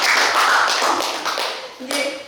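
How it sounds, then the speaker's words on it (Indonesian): Teachers at a session on positive school culture clap together in a close, dense patter that tapers off, with a voice breaking in near the end. "terima kasih benar dikasih tepuk tangan dulu buat terima kasih"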